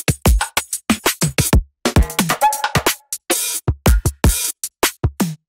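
Electronic drum samples alone, with punchy kicks, snappy hits, random hi-hats and toms in a choppy, syncopated pattern, loud and dry with short gaps between hits.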